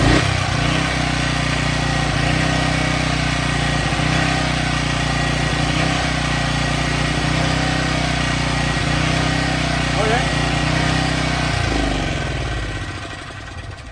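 A Champion 1500 portable generator's small engine runs with a steady, throbbing mid-low drone, close and loud, then winds down and fades near the end.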